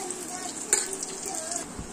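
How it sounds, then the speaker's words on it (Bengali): Thin potato straws fry in hot oil in a small pan on an induction cooker, making a steady, bright sizzle. A single sharp clink of a utensil sounds partway through. "সুন্দর আলু ভাজা হচ্ছে আমাদের"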